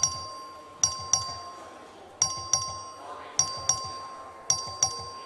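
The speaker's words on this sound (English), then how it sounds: "The clerk ring the bell." Bell rung by the clerk during a legislative chamber vote, struck in repeated bright metallic rings that come in pairs and groups of two or three with steady decay, over a low murmur of voices.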